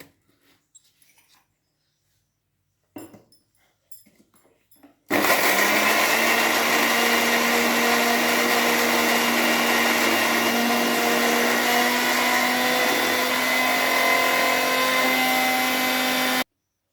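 After a few quiet clicks and handling knocks, a mixer grinder starts up, grinding garlic and dried chillies with a loud, steady high-pitched whine and buzz that runs unbroken until it stops.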